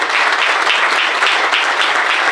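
An audience applauds at a breakfast event with presidential candidates, producing a dense, even burst of clapping that fills the short moment.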